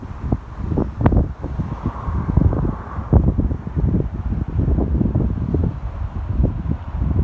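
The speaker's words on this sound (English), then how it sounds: "Very windy." Strong wind buffets the microphone in loud, irregular gusts, a constant rumbling roar with no voices.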